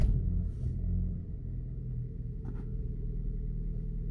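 A car engine idling just after a start on a cold morning, a low steady rumble with a faint click partway through and no speech.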